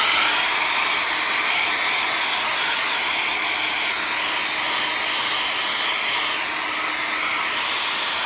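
Handheld heat or air dryer blasting air over a craft book project, a loud continuous roaring whoosh with no talk.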